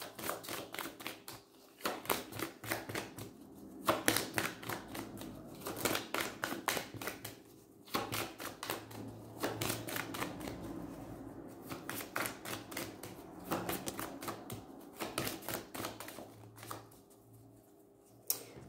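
Oracle cards from a mirror oracle deck being shuffled and drawn by hand, a close, steady run of quick papery flicks and riffling clicks with brief pauses between bursts.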